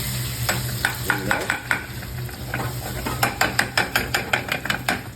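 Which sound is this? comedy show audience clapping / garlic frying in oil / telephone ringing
garlic frying in oil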